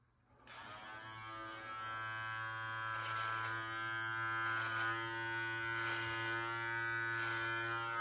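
An electric beard clipper fitted with a 12 millimeter guard trims a short beard, a steady close buzzing hum that starts abruptly and runs throughout, with soft swells as it passes through the hair.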